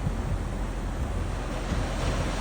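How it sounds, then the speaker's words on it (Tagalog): Ocean waves on the shore near Choshi, Chiba, Japan: a continuous, loud roar of surf washing in, with wind buffeting the microphone and no voices. "at marinig ang mga alon, ang mga sound ng alon"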